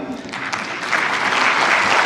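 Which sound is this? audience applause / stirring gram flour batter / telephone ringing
audience applause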